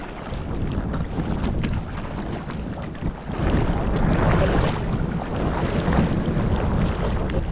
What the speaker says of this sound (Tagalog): Parang ang laki din ng agos. Lakas ng agos, lalim.